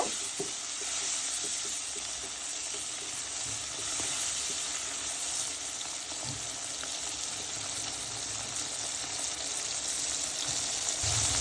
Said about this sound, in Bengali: এই তো মশলা কষানো মশলা ভাজা হয়েছে